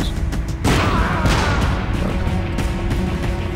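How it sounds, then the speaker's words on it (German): Explosions from the video game Rogue Warrior, set in a battle on ice, come as a loud heavy boom followed by crashing, rumbling blasts and debris that fill the whole stretch, with no talk. "Warum auch immer ist jetzt zwei Explosionen"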